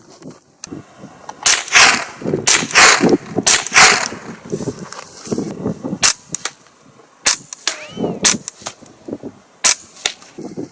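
A suppressed .22 LR rifle with a longer barrel fires a series of sharp, clipped shots at irregular intervals outdoors, some in quick pairs, with faint handling noise between.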